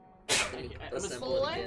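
A single sharp sneeze bursts out close to the mic during a tabletop game session, with talk continuing right after it.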